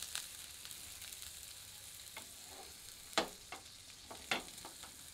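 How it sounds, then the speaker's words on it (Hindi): Paneer grilling in a grill pan gives a quiet, faint sizzle, broken by a few sharp scrapes and taps as the pieces are moved and flipped. "हल्का ग्रिल करके इसे पलट देते हैं और दूसरी ओर से भी ग्रिल कर लेते हैं।"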